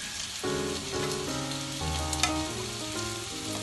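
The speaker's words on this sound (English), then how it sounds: "in the same oil with its own juice, you will see that it is cooking" Karela (bitter gourd) masala cooks in oil with its own juices, giving a close, continuous crackling sizzle with steady popping and a stir or two, loud and without any talk.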